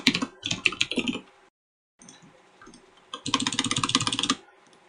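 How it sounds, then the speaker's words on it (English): Someone types an email address on a computer keyboard: quick bursts of clicking keystrokes, then a short silence, then sparse taps and a final fast, close run of typing. "type our email address."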